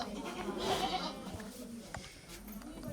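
A goat bleats at a rural spot beside scrubby jungle, a short wavering cry in the first second that rises out of steady background noise while people talk nearby.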